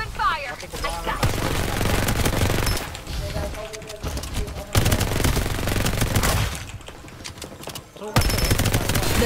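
Sustained automatic gunfire in the battle royale shooter Farlight 84 rattles loudly in long bursts with short gaps, mixed with game effects and in-game voice callouts.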